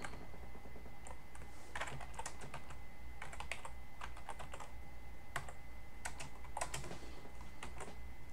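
Typing on a computer keyboard, close and quiet, with bursts of rapid key clicks separated by short pauses.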